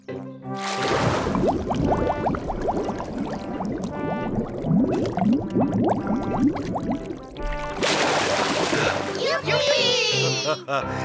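Cartoon splashing as a pig character dives underwater in a children's animated show, a loud burst of water near the start and again near the end, with character voices and music in between.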